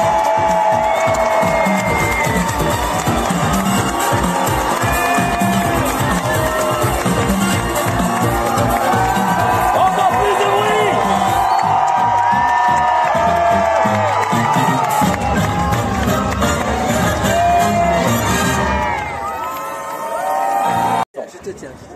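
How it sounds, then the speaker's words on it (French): A street crowd cheers and whoops for an Olympic torch bearer arriving on the Nice promenade, a dense, loud roar of shouts and clapping running steadily before it thins and drops away near the end, with voices calling out through it. "sous les applaudissements. Allez!"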